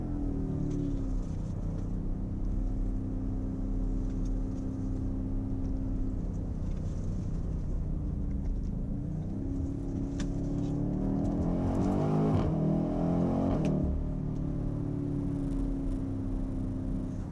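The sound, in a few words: BMW X5M Competition 4.4 liter twin turbo V8 engine driving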